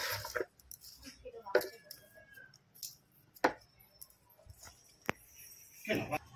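Sharp, scattered knife strikes on a board as garlic is chopped, spaced irregularly with quiet gaps and soft handling noises between, fairly faint and close.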